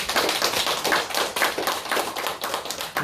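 A church congregation claps together, a dense steady patter of many hands that continues throughout.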